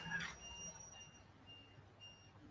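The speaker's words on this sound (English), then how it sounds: "the beep is still here at the same decibel level" Faint repetitive electronic beeps sound at regular intervals, like a vehicle reversing alarm, distant and steady over low street noise, with a brief louder burst at the start.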